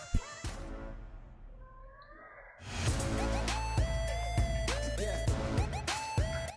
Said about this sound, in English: My cat's come to say hello.